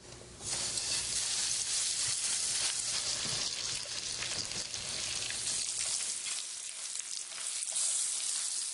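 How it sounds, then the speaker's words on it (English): Floured trout pan-fries in bacon grease with a loud, close, continuous sizzle and fine crackling, easing slightly toward the end, with no talking. "Pan-fried trout and bacon grease."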